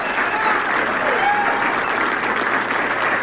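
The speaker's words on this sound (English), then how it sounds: "A little round of applause for our newest champion." A crowd applauds the new champion at the 1989 PBA Kessler Classic bowling tournament. The clapping is thick and continuous, filling the arena at a steady level with faint voices mixed in.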